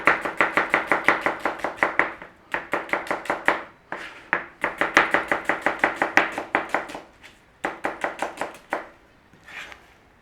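Onions being chopped with a knife on a cutting board for a Normandy pork and cider dish, quick rhythmic runs of sharp close taps in bursts with brief pauses between them.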